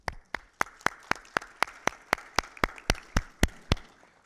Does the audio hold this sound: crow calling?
no